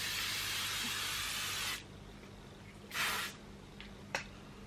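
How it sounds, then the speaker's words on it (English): Makeup setting spray mists onto a face in a long steady hiss, followed after a pause by a second shorter burst and a faint click, close and clear in a quiet room. "This is like hairspray for your face, okay?"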